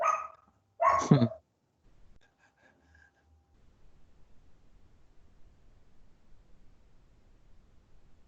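Dogs give two sharp, close barks at the start, followed by quieter scattered sounds and low background noise.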